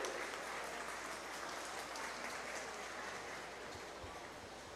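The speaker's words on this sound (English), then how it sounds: "give them all a giant round of applause" Spectators in an arena at a dairy cattle show applaud the kids showing cattle, a continuous, dense hiss of clapping heard faintly and at a distance, steady and unbroken from start to finish.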